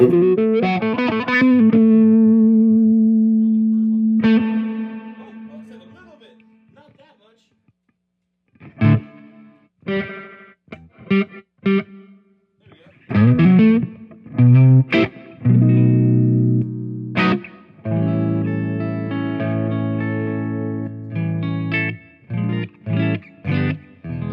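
An electric guitar plays chords and single notes with sustained ringing tones, separated by pauses and short strummed bursts, slightly distorted and close.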